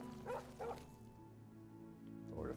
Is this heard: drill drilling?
no